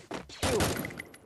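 A short burst of gunfire from the Free Fire video game, with a few quick shots that blend together, fairly loud and close, with no talk.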